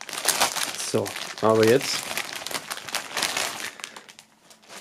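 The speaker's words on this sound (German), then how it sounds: "wir werden es einfach mal aufschneiden hier, die Folie." Plastic film wrap crinkles and crackles as it is cut open and pulled off a boxed CD set, loud and close, with a person talking over much of it.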